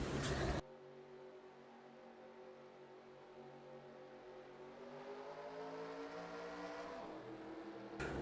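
Race cars in a Daytona stock car racing video game pulling away on a restart, engines droning and rising steadily in pitch as they accelerate together, loud and continuous with no talk.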